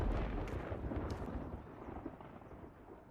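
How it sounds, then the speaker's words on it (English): A low, heavy rumble of thunder rolls out from afar and slowly fades, muffled and deep. "That thunder sounds distant."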